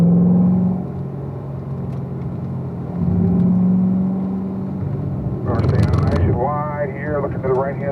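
A Corvette race car on the Spring Mountain track holds a steady low engine drone that dips and then swells as it brakes, with someone talking over it near the end.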